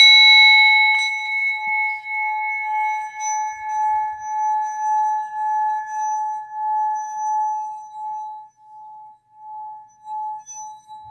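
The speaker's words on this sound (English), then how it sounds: "Ring the bell" A single bright bell strike rings out, its clear metallic tone slowly fading with a pulsing shimmer over several seconds, alone in a quiet room.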